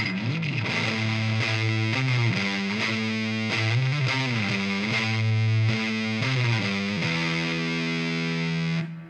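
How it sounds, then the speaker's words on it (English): A bass line run through an MXR La Machine octave fuzz pedal, thick and distorted with a bright upper-octave edge, playing sustained notes with slides, loud and steady throughout. "So here is an Octavia sound."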